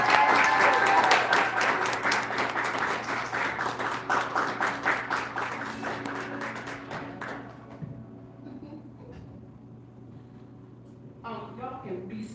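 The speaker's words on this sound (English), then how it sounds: "give a round of applause for Latreya Monteiro" A standing audience at a book signing breaks into loud, sustained applause that gradually fades over several seconds, followed by a quieter stretch and a voice at the end.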